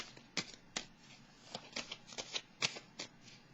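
Tarot cards being shuffled and drawn by hand, a series of soft, close riffling bursts and slaps at an uneven pace, fairly quiet, with no talking.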